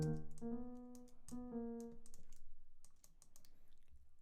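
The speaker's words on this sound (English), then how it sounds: "I'm just going to start clicking in some notes and try to find a pattern that I like" Mouse clicks entering notes one at a time in music production software for a dark West Coast melody, sharp irregular clicks near the mic, with sustained synth tones sounding underneath.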